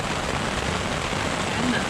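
Steady, heavy rain pours in a dense, continuous hiss in the Quetico wilderness, close and constant with no pauses.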